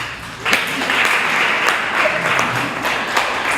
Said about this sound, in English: Oh, you want to go clap?